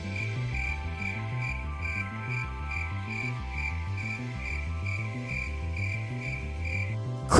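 Steady, pulsing chirps of crickets ring out in a regular rhythm, with low croaking frogs beneath, ending in a short sharp noise.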